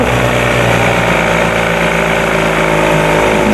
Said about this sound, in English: Sounds like the freaking spun hub, baby.